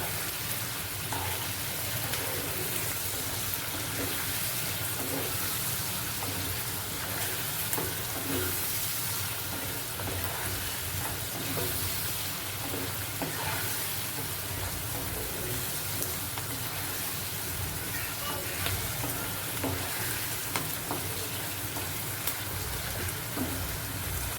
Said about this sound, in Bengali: ভালো করে নাড়াচাড়া করে নিতে হবে লঙ্কা গুঁড়োটার সাথে ভালো করে মিক্স মিক্স করে নিতে হবে